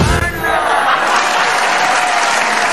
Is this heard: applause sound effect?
yes